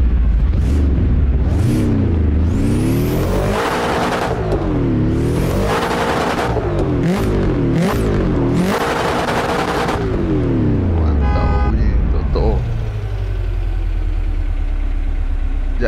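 A Toyota GR86 in Assetto Corsa, on a Malaysian touge mod route at Batang Kali, Genting Highlands, revs its exhaust repeatedly. The engine note rises and falls in loud, close sweeps with sharp crackling pops between revs, then settles into a rough idle.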